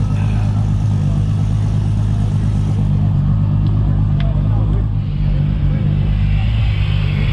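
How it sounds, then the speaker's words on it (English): A car engine idles loud and close in a steady rumbling drone, with a mild rise in pitch partway through but no sharp revving, while people talk over it. "You know we can rev it up right here too?"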